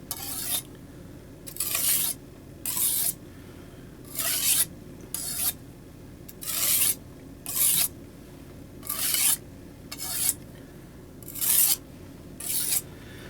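Knife blade drawn in light, rhythmic rasping strokes across a coarse clay brick used as a low-grit sharpening stone, roughly a dozen even scrapes repeating about once a second, close and alone.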